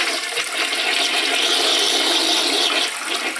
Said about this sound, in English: let me flush it and fill it back up again